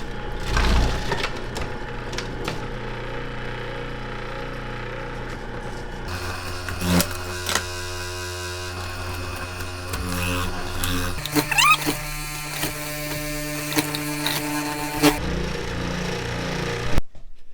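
Cabbage is pushed through a food processor's slicer blade, a loud motor whine and buzz with shifting tones as the load changes, running continuously with brief chopping crunches and pauses between stretches.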